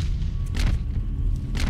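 A single deep boom from a gunshot in the video game Condemned, thumping over a dense low rumble of game ambience.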